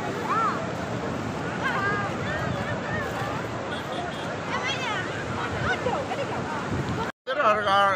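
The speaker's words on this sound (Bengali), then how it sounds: "অসম্ভব ঢেউ, এক কথায় অসাধারণ" Sea waves roll and crash along Kuakata beach at sunset, a steady broadband surge with wind buffeting the microphone and many voices chattering nearby throughout.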